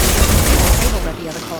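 Dense rapid gunfire in the Mass Effect 2 video game, a loud sustained burst of overlapping shots that fades off near the end, with voices mixed in.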